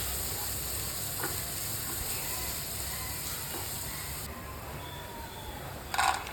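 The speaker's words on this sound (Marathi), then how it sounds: "सो मी तेलासोबतच मिरच्या परतणार आहे" Soft, steady sizzle of chilies frying in oil, close and fairly quiet, with a brief louder crackle near the end.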